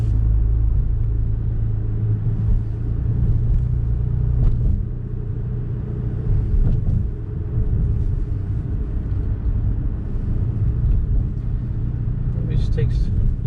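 Ferrari Roma being driven on the road, a steady low engine and tyre rumble heard from inside the cabin, continuous and fairly loud throughout.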